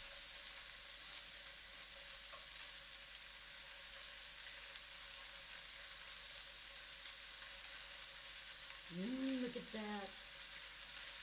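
Cubes of salmon fry in a pan with a faint, steady sizzle, while a voice briefly speaks near the end.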